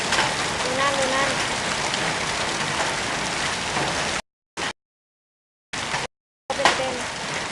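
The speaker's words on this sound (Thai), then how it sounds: "อากาศร้อนมากจนเกิดลูกเห็บโอ้โหลูกเห็บ" Hail and heavy rain pour down during a hot summer storm at a library, a dense continuous hiss and patter close by, interrupted by brief gaps of silence.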